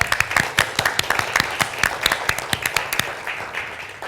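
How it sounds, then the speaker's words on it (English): Audience applause at a talk or panel event, a crowd clapping in a steady patter of sharp claps that carries on for a few seconds and thins slightly toward the end. "Can we give a little applause?"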